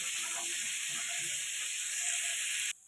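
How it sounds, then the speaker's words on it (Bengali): Potato pieces frying in oil with turmeric and salt, an even hissing sizzle held close and fairly quiet for about three seconds before it cuts off abruptly. "এটা একটু ভালো করে ভেজে নেব।"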